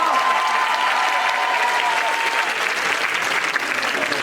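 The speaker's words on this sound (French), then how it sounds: "Et on peut l'applaudir très très fort." Audience at an improv theatre Christmas show applauding steadily, a dense, even wash of many hands clapping close and loud for the whole stretch, with a faint voice underneath.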